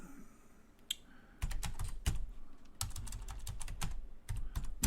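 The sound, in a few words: typing on a computer keyboard in vi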